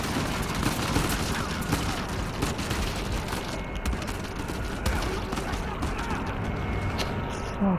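Rapid gunfire in the video game Uncharted 4, dense overlapping bursts of shots and automatic fire that stay loud and continuous over a busy combat mix.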